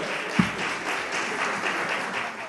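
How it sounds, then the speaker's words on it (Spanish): A student debate audience at a school event claps for a young speaker named Hernán; the applause is moderate and somewhat distant, with one sharper tap standing out early in the steady patter. "un fuerte aplauso a Hernán"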